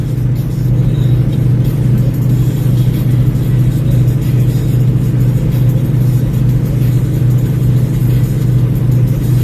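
A semi truck engine runs steadily at about 1,500 RPM, a loud continuous low rumble and drone with no breaks, heard close from inside or near the truck.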